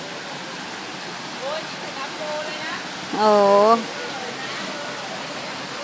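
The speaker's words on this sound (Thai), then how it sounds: "โอ้น้ำตกแบบเย็นชื่นใจมาก" Ton Pliw waterfall in Thailand pours with a steady, full rushing roar throughout, while a voice briefly exclaims over it.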